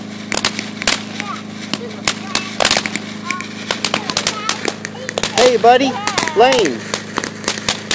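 Consumer fireworks and firecrackers going off on New Year's Eve, a dense string of sharp bangs and crackles with whistling, warbling tones toward the end, while people talk and shout nearby.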